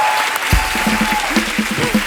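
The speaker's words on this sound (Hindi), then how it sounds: "एक बार जोरदार ताली हो जाए" Loud studio audience applause on a comedy talk show, a dense sustained burst of clapping that swells in and continues steadily throughout, with faint voices mixed in.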